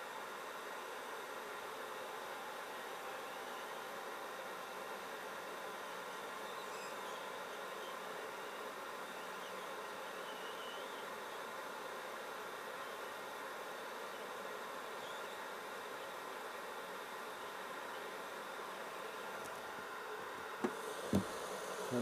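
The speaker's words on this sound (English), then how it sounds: "Turn on my blower here" A blower fan beside a Palomar 225 amplifier, running as a steady, faint whirring hum with no breaks, a couple of small clicks near the end.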